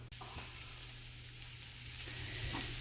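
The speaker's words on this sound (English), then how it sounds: "this chicken is frying up very nicely with no oil" Steady, continuous sizzling of chicken frying in a hot pan with no oil, even and close with a faint hum underneath, no talking.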